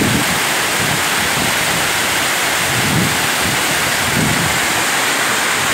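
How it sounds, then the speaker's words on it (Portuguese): Cachoeira da Alegria waterfall roars as a steady, loud, broadband rush of falling water, continuous and unbroken throughout with no voices. "Estamos chegando aí na Cachoeira da Alegria"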